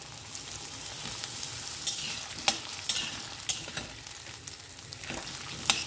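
Diced medium potato and onion sizzle steadily in oil in a pan while masoor dal is prepared, with a spoon scraping and stirring in intermittent clicks close by, no voices.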